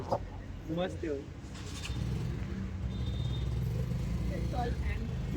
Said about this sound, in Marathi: बघा एवढी ट्राफिक, खूपच ट्राफिक आहे पुढे